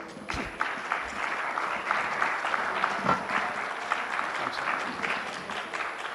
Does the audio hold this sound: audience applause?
yes